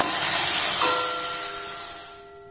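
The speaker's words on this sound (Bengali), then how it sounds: "লিকুইড দুধটাকে প্রথমে একটু ভালোভাবে আমি ফুটিয়ে নেব।" Liquid milk poured into a hot wok on a gas stove and brought to a boil: a loud, close hiss with a thin whistling tone that sets in and slowly fades.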